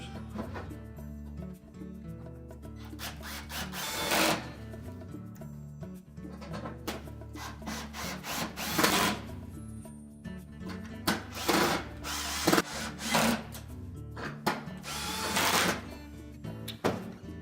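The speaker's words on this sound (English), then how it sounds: "we can go ahead and reattach the retaining screws" A power driver whirs in short repeated bursts, driving retaining screws back into the cooling blower panel of a Whirlpool range, close and fairly quiet with handling clatter between runs.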